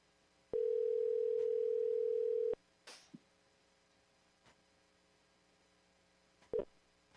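A steady telephone dial tone on a phone line comes through alone for about two seconds after a failed call, followed by a couple of brief clicks and a short electronic blip near the end.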